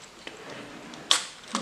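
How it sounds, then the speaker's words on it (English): A keycap is pried off a computer keyboard: a faint tick, then a sharp plastic click as the key pops free, followed by a smaller click just after, all close and with no talking. "These keys can also be removed."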